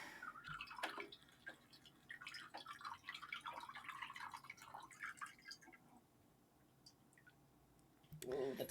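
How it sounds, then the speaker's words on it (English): Wet paint dripping during a unicorn painting session, a faint irregular patter of small drips and clicks, quiet and close, with soft background noise and a brief louder knock at the end. "that's still dripping"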